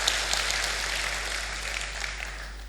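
Congregation applauding in a church during an Easter sermon on the resurrection, a steady wash of many hands clapping at moderate distance, continuous and fairly even throughout.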